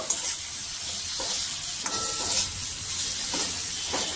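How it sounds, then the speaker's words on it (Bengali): Spices and radish are stirred in a frying pan, a continuous close sizzle and hiss broken by a few sharp spatula knocks and scrapes, no talking. "সব মশলা ভালো করে মিশিয়ে নেব।"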